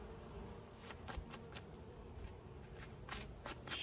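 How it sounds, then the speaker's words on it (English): Faint, quiet buzzing of bees inside a giant hollow tree with scattered crackling and rustling bursts, no voices. "It's a giant hollowed out tree full of bees."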